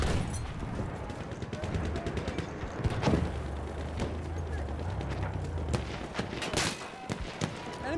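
Machine gun fire in the World War I shooter Battlefield 1, with rapid bursts of gunshots and sharp single cracks over a low battlefield rumble, some near and some distant.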